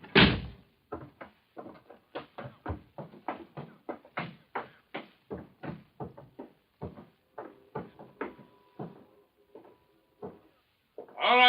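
A door sound effect from a 1948 firefighter radio drama: a long run of short, sharp knocks and creaking jolts, close and fairly loud, coming in a steady uneven rhythm with brief pauses and a heavier burst at the end.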